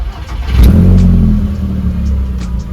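A stage 2 Skoda Octavia vRS with a fresh ECU tune cranks and fires up, then settles into a loud, close, steady engine rumble with a slight rise in revs.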